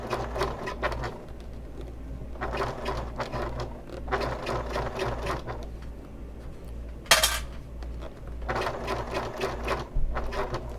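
A sewing machine fitted with a Teflon foot stitches vinyl in several short bursts of rapid whirring separated by pauses, close up, with a sharp clack in the middle and no talking.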